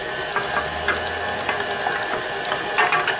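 A hand-cranked flour sifter working through flour, baking powder and salt for sugar cookies, a steady close ratcheting, clicking grind with rhythmic gear ticks and a faint hiss.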